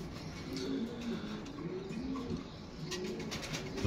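French Lahm pigeons cooing softly at a loft, low throaty coos repeating steadily over a constant background hiss, fairly quiet and with no talk.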